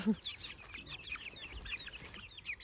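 Several chickens cluck and chirp softly in short scattered calls, fairly close but quiet, against a faint background hiss.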